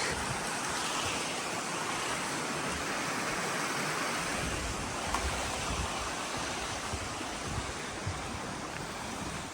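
Mystere Brook on the Fundy Footpath rushes in a constant broad roar, steady and full without pauses, heard from nearby at a footbridge with no voices.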